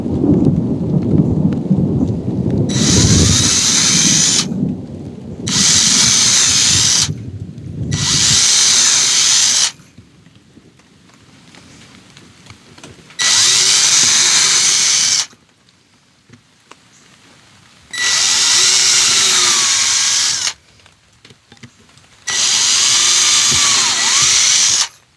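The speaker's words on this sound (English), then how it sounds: "And just keep on drilling holes in here." An electric drill whines in repeated bursts of a few seconds each, drilling holes in a clamped leather dog chew sheath, with quiet pauses between; loud rumbling handling noise opens the sequence.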